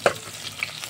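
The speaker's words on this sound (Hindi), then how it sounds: "अब इसको अच्छी तरह से ब्राउन होने तक हम भून लेंगे।" A brief clatter of stirring in a pan, then a faint, low sizzle as garlic and chilli fry quietly until browning.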